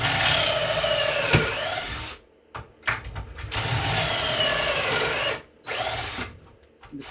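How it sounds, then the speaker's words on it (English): Power drill boring pocket screw holes through wood with a pocket hole jig, in two sustained whirring bursts separated by brief pauses, loud and close with no talking. "I need to drill some holes, some pocket screws"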